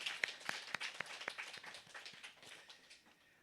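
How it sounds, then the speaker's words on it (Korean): Scattered hand clapping from a modest church congregation welcoming people at a Christmas service, a quick run of individual claps that thins out and fades. "다시 한번 환영의 박수하겠습니다."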